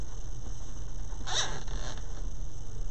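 A plastic zip tie is ratcheted tight around a bundle of wreath ribbons, giving a short burst of clicking zipping in the middle of a quiet, steady background hum.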